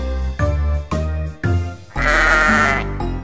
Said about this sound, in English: A sheep is in the barn, a sheep is in the barn.